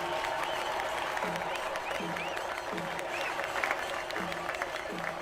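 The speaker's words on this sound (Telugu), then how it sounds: "బాగా చప్పట్లు కొట్టండి" An audience claps steadily through a team game competition among fourteen players, a dense and continuous wash of applause with an announcer talking over it.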